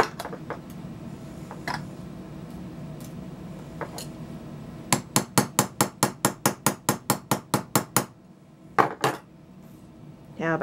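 Tapping a tool through metal to open a hole for a homemade oil lamp: a few scattered knocks over a quiet room hum give way to a rapid run of about fourteen crisp, even metallic strikes, then two last heavier taps, all close up.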